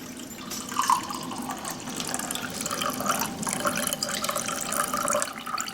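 Pepperoncini juice poured from a jar into a measuring cup while a fork holds back the peppers, a steady splashing liquid trickle with small gurgles, close and moderately quiet.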